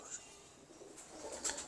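A breeding pair of pigeons cooing softly, with a few short, faint coos and a brief flutter near the end against quiet background.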